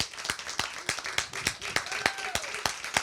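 An audience at an open mic night claps in a quick, fairly sparse patter of individual hand claps, close and lively, lasting a few seconds.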